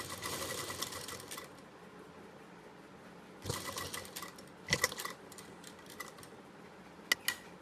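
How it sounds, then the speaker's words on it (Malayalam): Sewing machine stitching a child's crop top, heard as a steady rapid mechanical chatter that runs, pauses and starts again in short bursts, with a few sharper clicks in between. "ഇതുപോലെ ഇങ്ങനെ കറക്റ്റ് ആക്കി വെച്ചതിന് ശേഷം നമുക്കിത് ഇങ്ങനെ സ്റ്റിച്ച് ചെയ്തെടുക്കാം."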